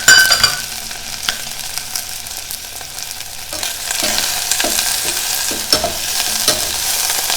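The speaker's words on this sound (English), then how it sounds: "I'm going to toast these shells." Shrimp shells toasting in hot extra virgin olive oil in a pan give a loud, steady sizzle up close, broken by several sharp scraping knocks as they are stirred around.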